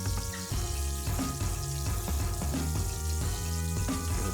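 Foie gras searing in a hot pan, a dense crackling sizzle of rendered fat, with music carrying a steady pulsing beat beneath it and no talk.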